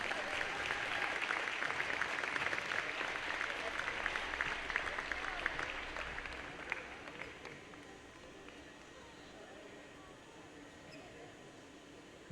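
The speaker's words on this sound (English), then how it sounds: "Let's give all of these ladies a round of applause." Audience applause for the all-tournament team of women players at a college tournament between Arlington Baptist University and Pensacola Christian College, a moderate crowd clapping steadily for several seconds before tapering off into a quieter hall.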